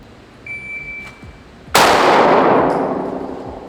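A compensated 9mm pistol, an Icarus Precision OZ9X with ZevTech hyper comp, fires on steel targets at ten yards, giving one sharp loud crack with a ringing decay, preceded by a faint electronic timer beep.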